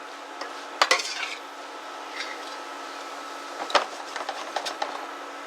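A utensil stirs ground beef and onions in a pan, with sharp metallic scrapes and clinks at a few moments over a soft steady sizzle.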